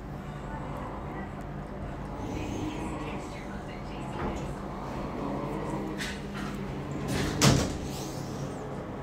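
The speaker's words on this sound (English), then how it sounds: "this door closes really slow" A slow-closing elevator door at a JCPenney in Southlake Mall, Merrillville, slides shut with a low rumble over steady hum, ending in a sharp thud as it seals.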